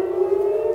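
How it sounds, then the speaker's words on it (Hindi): An air raid siren in Israel during an Iranian missile attack sounds a loud, steady, sustained wail with no voices over it. "सायरन की आवाज वहां पर सुनी भी जा रही है"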